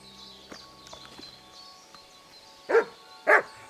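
A dog gives two short, loud barks close by near the end, after a stretch of quiet shuffling and small knocks.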